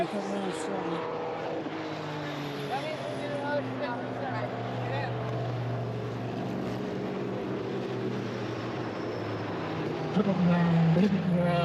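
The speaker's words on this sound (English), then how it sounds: "That Valkyrie sounds unbelievable. I mean, that's a race car." An Aston Martin Valkyrie race car at Petit Le Mans, a sustained engine drone at the track that swells louder near the end, heard under people talking.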